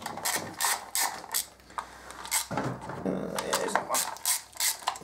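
Ratchet wrench loosening 8mm bolts on the front sprocket cover of a 2013 Aprilia Tuono motorcycle, giving close, rapid metallic clicking in short repeated bursts with brief pauses.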